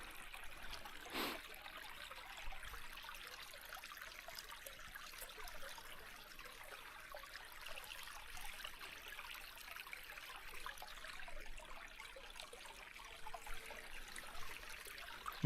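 Water flowing and trickling in a stream on farmland, a faint, steady soft rush that continues evenly and alone without a break.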